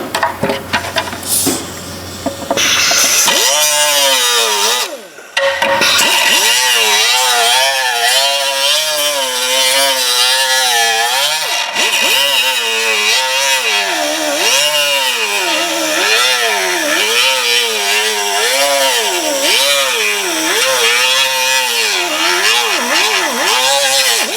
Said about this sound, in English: I'm going to take my whizzer wheel here and just cut it down